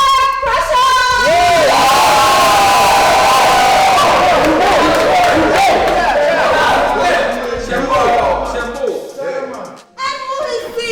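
A loud live crowd at a Ghanaian comedy stage show roars and cheers to welcome a performer. Shouts, whoops and high voices pile into a dense, sustained din that only eases near the end.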